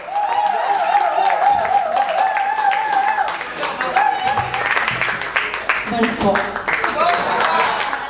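Audience applause at an art exhibition, steady clapping from a crowd that runs beneath a voice speaking over a microphone.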